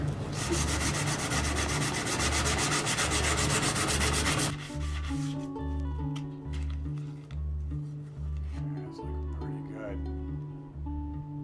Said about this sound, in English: to a finer grit of sandpaper, and this sanding step is going to really smooth out the Snowsnake